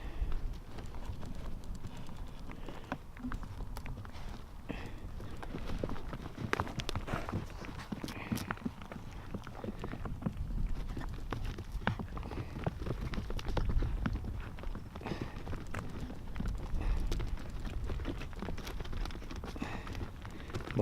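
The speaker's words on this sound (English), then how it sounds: "More stampeding cows" Cows stampeding through the New Forest, their hooves thudding and clopping on the ground in an irregular, continuous patter at moderate distance for about twenty seconds, with faint birds and no clear talk.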